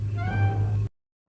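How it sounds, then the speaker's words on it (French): A house cat gives a single drawn-out meow, close and clear, which cuts off abruptly and is followed by silence. "ça sert à rien de miauler"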